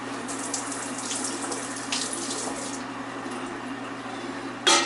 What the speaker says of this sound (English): Alright, spatula's rinsed off good.